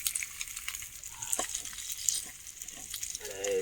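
Fresh tilapia, caught from a dam, frying in hot oil on a flat pan: close crackling and spitting oil with small pops, the sizzle rising louder toward the end.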